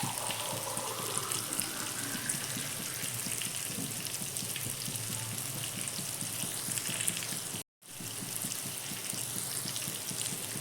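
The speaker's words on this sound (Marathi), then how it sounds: "त्यामध्ये आता आपण कोमट पाणी टाकून घेऊया." Warm water is poured into a pan of frying brinjal and chillies, a continuous close splashing gush over faint sizzling, broken by a brief dropout near the end.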